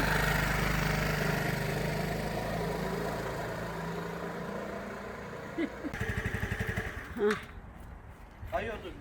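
A motorcycle engine idles and revs up close, a rough mid-pitched drone that later turns into chugging pulses, with people talking over it.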